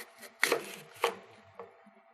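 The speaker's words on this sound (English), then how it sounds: "I'm going to cut this apple in half" Knife cutting an apple into pieces on a board, three distinct crisp chops spaced about half a second apart, close and fairly quiet with no talk.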